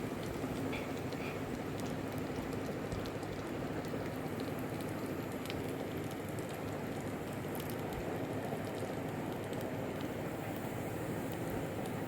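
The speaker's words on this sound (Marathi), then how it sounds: "सर्व वस्तू गरम तेलामध्ये छान तळल्या गेल्या." Fenugreek seeds and spices sizzling and frying in hot oil for raw mango pickle, a steady dense crackling hiss that holds evenly and fairly close throughout with no other sounds.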